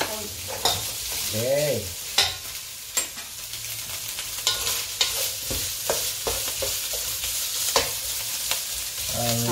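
Ingredients sauté in oil in a pan with a steady sizzle, broken by repeated sharp scrapes and clacks of a spatula stirring, close by, while a voice briefly says a word.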